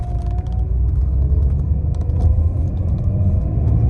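A classic automatic car accelerates on the throttle, a steady low engine rumble with a faint rising tone, close and continuous, with light clicking over it and no talk.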